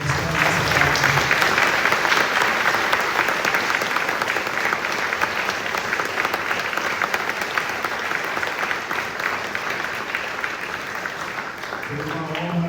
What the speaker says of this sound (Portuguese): eu gostaria de pedir que a igreja dê uma salva de palmas